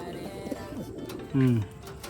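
A racing pigeon gives one short, clear coo close by, set against soft background noise.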